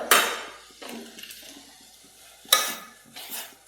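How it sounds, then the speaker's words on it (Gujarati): A spoon stirs Maggi noodles in a pan, two short scraping bursts of metal on metal with faint sizzling between them, close and fairly quiet. "ચમચીને જરીક હલાવી નાખીએ."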